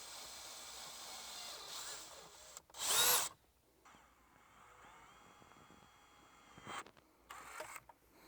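A power drill bores a hole in the dash of a 5th-gen Toyota 4Runner during a dash mount install, one loud burst lasting under a second, surrounded by quieter handling and rustling noise.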